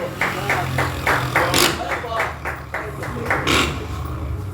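Congregation clapping at an evening prayer circle meeting, a steady series of sharp claps with a few louder bursts, over a low background hum and murmuring voices.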